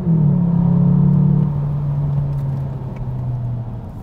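A Volkswagen Arteon GTE plug-in hybrid accelerating hard, its synthetic engine note a loud steady drone that slowly sinks in pitch while the cabin rumble continues.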